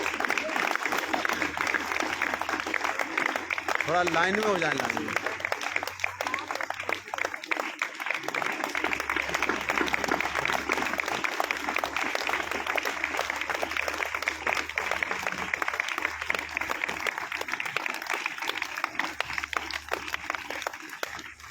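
Sustained loud applause from a crowd at a prize ceremony fills the whole stretch, with a voice speaking in Hindi over the clapping.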